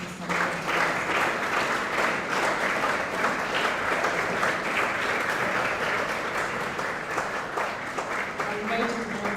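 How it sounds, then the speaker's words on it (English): Sustained applause from a large crowd at a human rights conference welcoming a keynote speaker, steady clapping filling the whole stretch with no pauses, fairly loud and close. "let us please give a warm round of applause to welcome our keynote speaker, Mr. Mabirizi."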